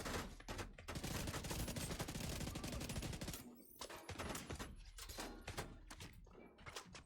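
Enemy gunfire in The Division 2, including electric bullets, comes as rapid, choppy bursts of shots with brief pauses, fairly quiet overall.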